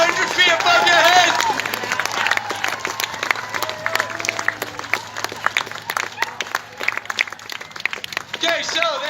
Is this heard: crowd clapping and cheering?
yes